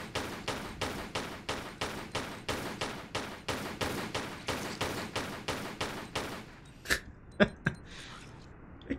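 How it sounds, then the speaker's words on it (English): Automatic gun firing in the 1999 PC game Tomb Raider IV: The Last Revelation, a steady rapid burst of about twenty evenly spaced shots for six seconds, then a few sharp isolated hits. "Automatic gun."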